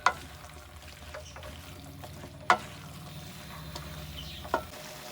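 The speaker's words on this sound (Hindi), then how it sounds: "इसको अच्छी तरह मिक्स कर लेते हैं।" Turnips being stirred into tender cooked mutton in a pot for shaljam gosht, giving a low simmering bubble with soft scraping and three sharp clinks of a spoon against the pot.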